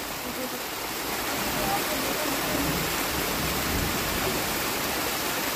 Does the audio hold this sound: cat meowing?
no